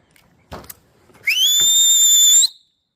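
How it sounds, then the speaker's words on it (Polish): A person whistles one sustained, piercing high note lasting just over a second, loud and close, after a few brief knocks and rustles. "Przepraszam, że gwiżdżę, ale te emocje są nie do opisania."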